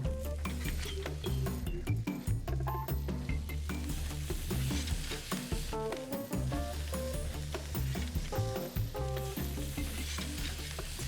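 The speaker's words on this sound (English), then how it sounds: "Salt and pepper the steaks before they go on the grill." Salted and peppered steaks sizzle on a wood-fire grill with a steady, dense crackle throughout, under a layer of tonal background music and no talking.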